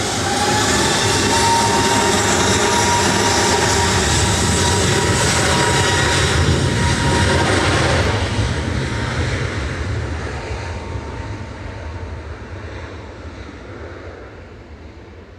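A jet airliner passes over near Manchester Airport, its loud, dense engine roar holding strong before fading steadily over the last several seconds.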